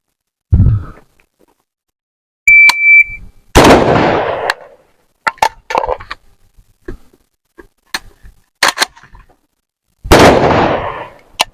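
AK-47/AK-103 rifle fire on a range during a combat shooting drill: loud, sharp shots in separate bursts, a single report, then a cluster and a final blast, with a short beep and quiet pauses between.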